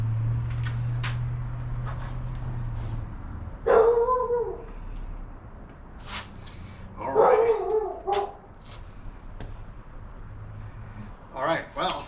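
A dog outdoors during tai chi practice lets out a few separate barks and yips spaced over several seconds, with a low hum and rustling between them and a brief spoken remark.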